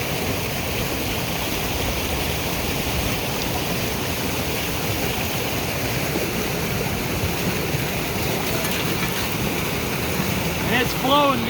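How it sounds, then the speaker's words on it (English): Well water rushes steadily through an opening after a blocking board is lifted in the high desert, a continuous close gushing flow with a faint voice near the end. "Alright, so the water's going through."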